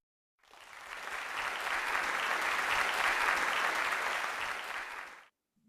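An audience applauds after a young speaker's talk at a speaking showcase, a steady burst of clapping that swells, holds for several seconds, then stops abruptly.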